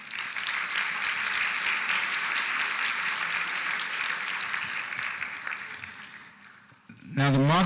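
Audience applause at a college science awards ceremony, sustained even clapping for about six seconds that fades out before a voice begins speaking at the end.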